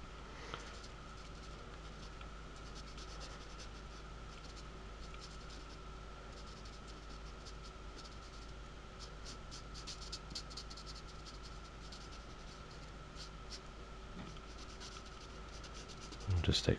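A Winsor & Newton Promarker in cool grey 3 drags steadily across paper, a soft continuous felt-tip rubbing with faint scratchy strokes over a steady background hum, close and quiet throughout.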